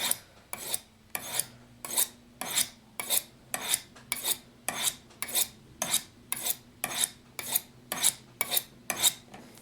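A knife blade draws through a Smith's 3-in-1 sharpener in about seventeen even, rasping strokes, close and crisp, each a quick scrape followed by a brief pause.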